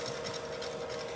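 An electric mixer beats sugar into meringue, a steady close whirring motor hum with a faint rhythmic churn throughout the short stretch.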